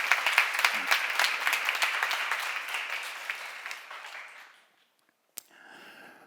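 A church congregation claps during a Korean sermon seminar, the applause fading out over about four seconds, followed by silence and then a brief knock and soft room noise.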